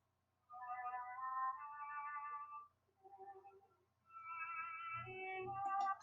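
A viola plays a few sustained notes in a mid-low register with short gaps, heard alone and fairly soft.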